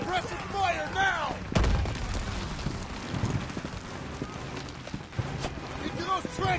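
Gunfire in the Call of Duty WW2 video game, with scattered shots and one heavy blast amid battle noise, under shouted voices.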